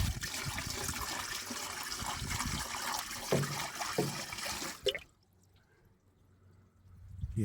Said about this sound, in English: let's put some more water down there